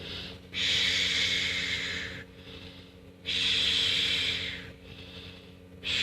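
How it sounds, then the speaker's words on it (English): A man at a self-defense and jiu-jitsu seminar demonstrates deep diaphragm breathing into the belly: three long, loud hissing breaths, close to the microphone, with short pauses between them. "But this breathing is emotional."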